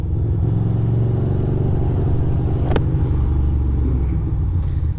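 A Subaru car passes close by in city traffic, a loud rumbling engine swelling then fading, with a brief sharp clatter midway and other traffic rumbling beneath.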